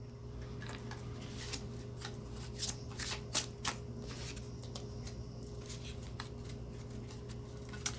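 Tarot cards shuffled in brisk, quiet bursts over a steady low hum, with a few sharper riffles and flicks standing out; no one speaks.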